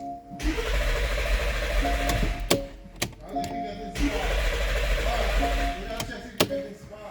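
A 2014 Porsche Cayenne cranks without starting, making two long whirring starter bursts separated by a short pause, loud and close, with clicks and knocks in between and someone talking at times.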